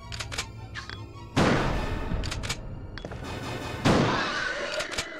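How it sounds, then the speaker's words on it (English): Shotgun firing in the Resident Evil 2 video game on the original PlayStation, two loud blasts a few seconds apart, each followed by a decaying rumble, with shorter clicks and mechanical sounds between them. "I'm gonna switch to my shotgun."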